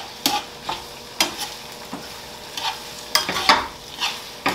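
Garlicky shrimp pasta being mixed in a hot pan, with repeated scraping strokes of a utensil every second or so over a soft background sizzle, close and clear.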